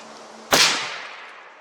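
A single sharp, loud gunshot from a 6mm Creedmoor rifle firing a Hornady 108 grain ELD Match load into ballistic gel, cracking suddenly after a quiet lead-in and then decaying over about a second.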